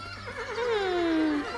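A horse neighs once in a long, clear whinny that falls in pitch, fairly close and prominent over a faint background hum.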